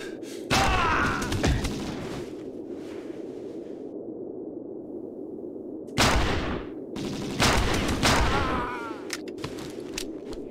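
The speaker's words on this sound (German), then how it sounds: "Gut, dass der Revolver so genau ist." Revolver shots in the shooter XIII, a few sharp loud blasts spaced seconds apart over a steady background drone, with no talking.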